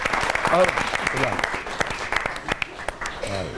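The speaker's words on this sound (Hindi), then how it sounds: "जोरदार तालियों के साथ हम स्वागत करेंगे" Strong applause from the audience at a televised Holi poetry gathering (kavi sammelan) welcomes a poet to the stage. The dense clapping runs throughout, with a voice speaking over it.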